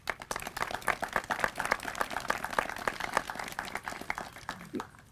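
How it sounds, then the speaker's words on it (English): A crowd at an outdoor ground breaking ceremony gives a round of applause, a thin steady patter of clapping, moderately distant and fairly faint. "round of applause"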